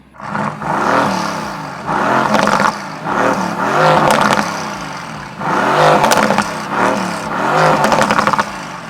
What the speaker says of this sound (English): let me show you guys what the car sounds like in Race Mode